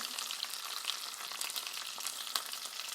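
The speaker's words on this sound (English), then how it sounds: "take your cooked salmon and place them right back into the pan." Cooked salmon sizzles in a frying pan, a soft, steady crackle and hiss with occasional small pops, faint and continuous without any speech.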